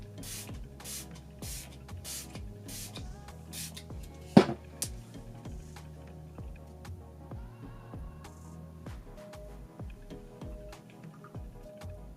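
Several short hissing bursts of makeup setting spray, close and fairly quiet, over a steady background with light rhythmic tapping; one sharper knock stands out midway.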